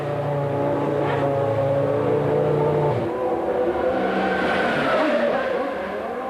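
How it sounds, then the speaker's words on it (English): Williams BMW Formula 1 car in a 2001 race, its V10 engine failing: loud, strained engine harmonics drop away around the midpoint into a rough, sputtering drone amid surrounding race-car noise. "Montoya's BMW engine makes more of a fuss on its way out"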